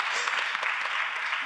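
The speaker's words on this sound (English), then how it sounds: "I always get applause for that." Audience applause at a talk on women and philanthropy, a steady broadband clapping wash that holds at even loudness through the whole brief stretch with no voices over it.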